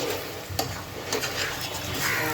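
Spiced chicken korma frying in oil in a pan, a close, continuous sizzle with occasional stirring scrapes and no talking.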